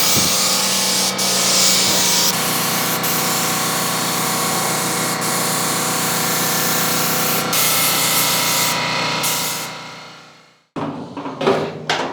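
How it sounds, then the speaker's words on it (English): Epoxy primer is sprayed onto the welded wheel housing of a 1968 Camaro, a continuous close aerosol hiss lasting about ten seconds before cutting off, followed by a few brief handling knocks. "Now what I'm going to do is hit it with an epoxy primer."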